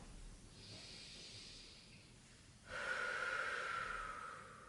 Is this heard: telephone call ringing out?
no